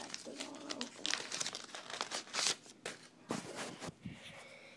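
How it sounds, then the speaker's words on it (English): Crinkly plastic trading card pack wrappers are cut with scissors and torn open with quick rustling and snipping, close up, in uneven bursts. "Got some scissors now, so I can open these a little quicker."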